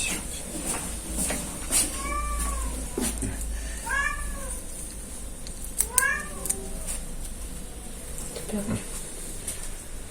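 A cat brought into a veterinary clinic for a paw problem meows several times, drawn-out and fairly close, against a steady room hum with faint voices nearby.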